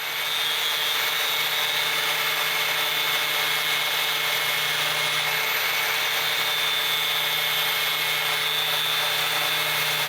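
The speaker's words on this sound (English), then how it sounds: "using my angle cutter, I slightly modified one of the factory bolts" An angle cutter grinds into a factory bolt during a Jeep JK inner fender install, making a loud, continuous whine that holds steady for about ten seconds without pause.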